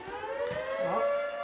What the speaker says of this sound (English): there's a tornado siren every day